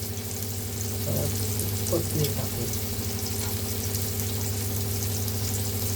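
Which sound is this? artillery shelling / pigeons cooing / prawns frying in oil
prawns frying in oil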